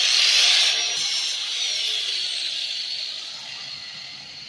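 A grinder runs continuously across a rusty steel mower hitch, a loud, steady high-pitched whine with gritty abrasion that slowly tapers off as the wheel eases away.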